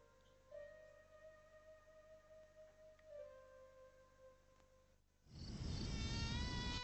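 Thin, whining drone of mosquitoes hovering close, a steady high buzz with slight pitch shifts, suddenly swamped near the end by a loud, dense burst of broadband noise.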